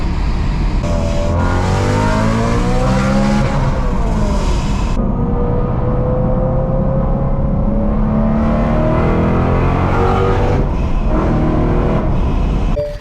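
A turbocharged BMW running a small boost kit accelerates hard through the gears. Loud rising engine revs break at each shift, and the sound carries on strong and close throughout with no talking.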